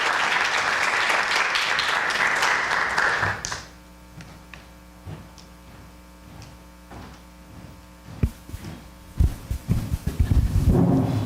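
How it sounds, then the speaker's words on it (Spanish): An audience applauds for about three and a half seconds, dense clapping that drops off into a quiet room with faint taps and mains hum, then a few scattered claps and knocks near the end. "Yo quisiera que le demos un aplauso a don Hugo"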